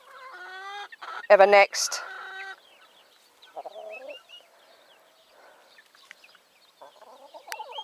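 Turkey hens cluck and squabble in a stable, with a loud burst of agitated calls early on followed by scattered softer clucks and chirps, close by, with a brief spoken word.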